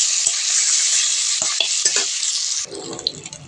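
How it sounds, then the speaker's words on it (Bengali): Eggs frying in mustard oil in a wok give off a loud, steady sizzle with several scraping strokes of a spatula, then the hiss drops lower as the food is shifted or lifted out. "ডিমগুলো আমার ভাজা হয়ে গেছে"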